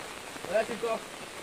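Steady rain patters on a surface in Dhupdhara, Assam, during flooding, a constant hiss with a brief voice rising over it.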